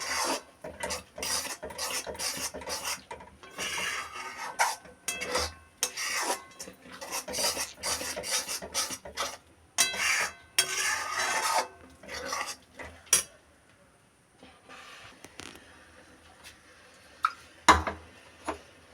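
A spoon scrapes and stirs mango puree in a pot, making close, rhythmic rasping strokes that come in bursts with quieter pauses and a few clinks near the end.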